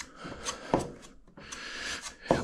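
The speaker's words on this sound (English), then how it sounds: "I've probably been using this putty knife for 25 years." Putty knife spreading mixed body putty on the hood of a 1968 Mustang, short close scraping strokes in a few rhythmic passes, no talk.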